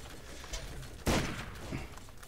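Gunfire in the Borderlands video game, a scattered burst of shots with one sharp, loud crack in the middle and fainter pops around it.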